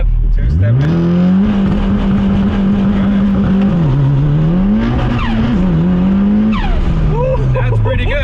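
A rebuilt Mitsubishi Evo in first gear launching off a two-step limiter, the engine held at a loud buzzing rev before surging and shifting, close and powerful, with crackles and a whine trailing off.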